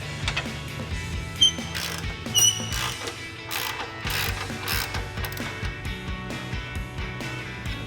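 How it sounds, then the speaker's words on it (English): Ratchet clicking rapidly while loosening the cam bolt nut on a 2024 Toyota Tacoma suspension, close metallic ratcheting under workshop clatter, steady throughout with no talking. "Once you got that loose, switch out to our ratchet."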